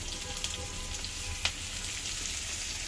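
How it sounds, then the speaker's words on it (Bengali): Light drizzling rain falling outside, a soft steady hiss that runs evenly throughout with one brief tap partway, fairly faint and without voices. "টিপটিপ বৃষ্টি হচ্ছে বাইরে।"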